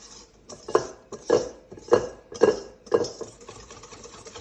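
A utensil scrapes and clinks against a pan while milk heats toward a simmer for eclair pastry cream, five or six rhythmic strokes, close and fairly loud, with no talking.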